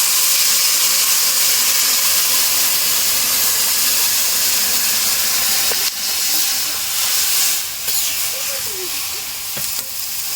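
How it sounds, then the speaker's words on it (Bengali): Hot water poured into a pan of spiced, sautéed fish gives a loud, steady sizzle and hiss that lasts throughout, with a few faint clinks near the end. "এবার গরম জল করে রেখেছিলাম আগের থেকে, সেই জলটা ঢেলে দিই।"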